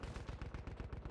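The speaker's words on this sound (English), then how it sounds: "Who shot me?" A fast, evenly spaced burst of automatic fire in a video game, about a dozen shots per second, fairly faint and steady throughout.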